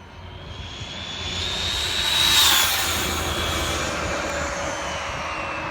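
A Traxxas Slash RC car, built as a 100 mph project, screams through a speed run with a steady high electric-motor whine that swells and peaks midway, then holds on as it passes, with no talking.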